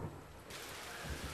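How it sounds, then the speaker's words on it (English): Heavy summer rain falling in Beijing at evening, a dense continuous hiss of drops on surfaces that swells louder partway through, with a low rumble beneath; close and enveloping, no voices. "this evening, it's the Beijing summer rain, which most definitely is setting the mood"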